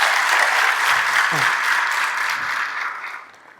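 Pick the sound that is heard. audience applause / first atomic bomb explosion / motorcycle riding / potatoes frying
audience applause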